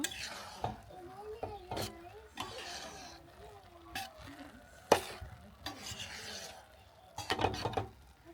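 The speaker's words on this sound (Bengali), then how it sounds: "কিশমিশ দিয়ে পোলাওটা আরেকটু নেড়ে চেড়ে দিব" Pigeon pulao with raisins being stirred in a pot, a spoon scraping and knocking in irregular bursts with a faint sizzle, and voices talking low under it.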